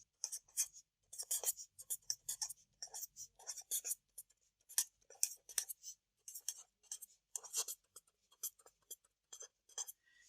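A pen scratches steadily across paper while a maths equation is written out by hand, close and quiet, in short rhythmic strokes with brief pauses and no talking.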